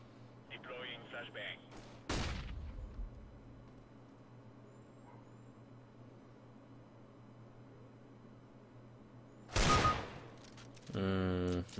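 Distant CS:GO gunfire: a couple of sharp shot bursts ring out over a quiet background hum, with faint game sound effects between them.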